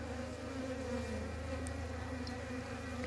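Honeybees busy on a frame pulled from a weak three-frame hive coming out of winter, a dense continuous buzzing hum close by with no voices.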